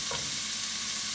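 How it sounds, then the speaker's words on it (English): Onion frying in a pan for a spicy cabbage soup, a steady close sizzle with a faint scrape of stirring, no voices. "I'm going to cook my onion till it's translucent"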